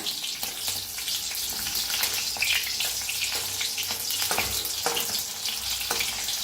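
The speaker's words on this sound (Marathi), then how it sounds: "ते बी भाजून घेऊया तेलात" Seeds roasting in hot oil for a spiced brinjal bharta make a steady close sizzle throughout, with scattered crackles and a few light clinks, and no voices.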